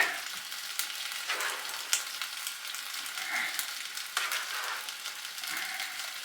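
Venison and egg dog food frying in a pan while being stirred, a steady sizzle broken by scraping and clinking strokes of the spoon at close range, no voices.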